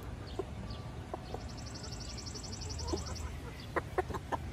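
Chickens cluck in short bursts near and far, with a faint higher chirping trill in the background over low outdoor rumble.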